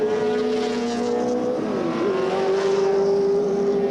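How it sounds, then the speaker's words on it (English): Touring race cars run at Oran Park during a 1984 Australian Touring Car Championship round, giving a loud sustained engine whine with a gear-change dip in pitch before it climbs again, with no speech. "So as Bob Morris roars away, Dick Johnson suddenly is in this position to inherit 2nd place"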